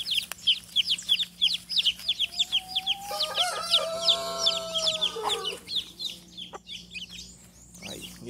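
Several small birds chirp and peep in rapid repeated calls inside a pen built for baby chicks, and a few louder clucking calls rise in the middle over a low steady hum.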